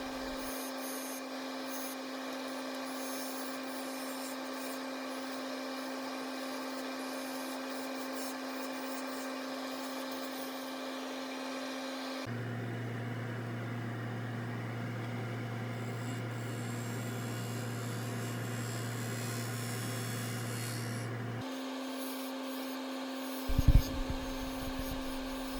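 A wood lathe turning the rim of a figured maple bowl: a steady motor hum and whine that shifts tone about halfway through, then a brief knock near the end, with no talk.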